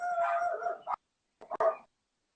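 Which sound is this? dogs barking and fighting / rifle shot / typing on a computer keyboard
dogs barking and fighting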